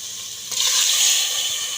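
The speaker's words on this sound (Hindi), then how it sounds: "अब हमने इसमें 1 कप पानी डालना है" A cup of water is poured into fried keema in a pressure cooker, setting off a sudden loud hiss and sizzle that holds steady, close up with no talking.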